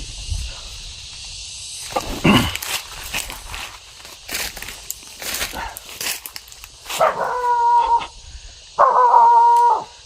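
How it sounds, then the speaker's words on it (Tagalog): A stray dog barks several times and lets out drawn-out howls, fairly close, over rustling footsteps and a faint insect hum outdoors. "May asong ligaw dito."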